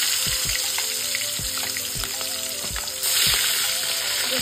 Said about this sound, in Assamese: তেল গৰম হৈছে আৰু এতিয়া মই একেবাৰে ডিপ ফ্ৰাই নকৰো অকমান হালকাকে ফ্ৰাই কৰি লওঁ